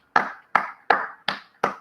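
A church congregation clapping in praise, heard as five sharp, evenly spaced claps in unison, each crisp and quickly fading, close and fairly loud.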